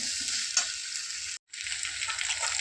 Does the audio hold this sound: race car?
no